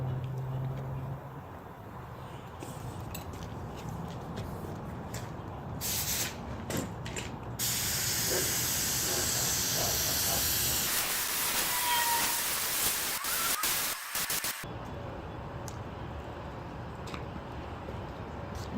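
Spray painting the underside of a car trunk: steady hissing bursts from the spray gun, loudest in the middle stretch, with mechanical clicks between them and no talking.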